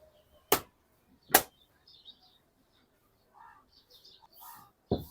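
A few faint, brief chirps from small birds in a jackfruit tree come from a short distance in a quiet setting, with two sharp snapping knocks early on and another at the end.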